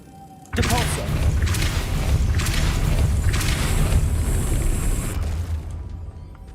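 In the Hogwarts Legacy game, the Depulso spell sets off a sudden loud thump and then a sustained heavy rumbling, grinding whoosh that lasts several seconds before fading.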